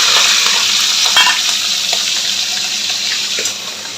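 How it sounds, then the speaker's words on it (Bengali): Shapla shrimp frying in oil in a wok, a steady loud sizzling hiss throughout with small crackles and pops, close up, with no talking. "এখানে শাপলা চিংড়িটা বসাবো, তার জন্য তেল দিয়ে দিয়েছি কড়াই। চিংড়িটা আগে ভেজে নেব।"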